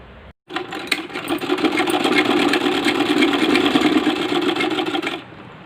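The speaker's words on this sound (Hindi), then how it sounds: "अब यहाँ पर हम सिलाई लगा लेंगे।" A sewing machine stitches palazzo pants in one steady run of about five seconds, its motor whirring loud and close with a fast, even needle rhythm. It starts abruptly and stops just as abruptly, with no talking.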